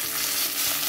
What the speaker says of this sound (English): now that I got a nice sear on the bottom as well